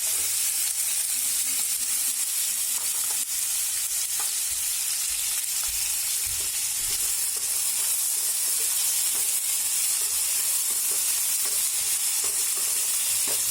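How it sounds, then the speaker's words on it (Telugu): Ivy gourd pieces fry in hot oil in a pan with a constant, close sizzle and occasional stirring scrapes, and no voices. "ఆయిల్లో మనం ఇవి దొండకాయ ముక్కలు కట్ చేసుకున్న దొండకాయ ముక్కలు వేయించుకుందాం"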